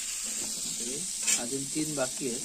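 Crabs fry Malvani style in hot oil, giving a steady close sizzle and hiss that runs under a voice speaking throughout.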